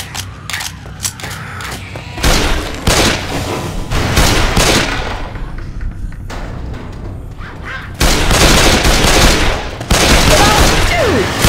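Loud bursts of automatic gunfire in Left 4 Dead 2, arriving in several heavy volleys separated by brief lulls, with voices occasionally under the shooting.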